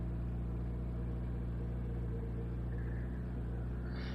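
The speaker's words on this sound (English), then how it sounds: "Out of a lot of the Group 3 race cars that are in the game, the BRZ is definitely by far one of the better sounding ones" Subaru BRZ Group 3 race car in a racing video game, its engine droning steadily and loud throughout, with a rising roar toward the end and no voices.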